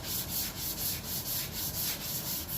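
Sandpaper rubbed by hand over 2K primer surfacer in a crosshatch pattern, a steady close-up scratchy rasp with rhythmic back-and-forth strokes pulsing several times a second.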